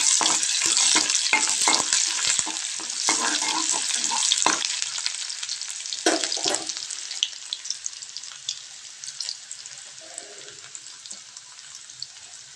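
Chopped onion frying in a pan gives a loud, bright sizzle with sputtering crackles that gradually settles to a softer, steady hiss, with no voices.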